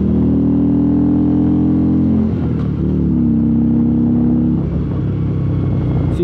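Harley-Davidson Road Glide Special motorcycle with the 103 engine gives a steady, loud, close low rumble for several seconds, its pitch dipping and rising again midway as the revs change.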